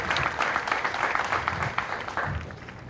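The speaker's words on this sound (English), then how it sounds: "So please give our MTI cadre a round of applause, especially our newest one." Audience applause for the Military Training Instructor cadre at an Air Force Basic Military Training graduation ceremony, a steady wash of many hands clapping throughout, moderately loud and fairly even.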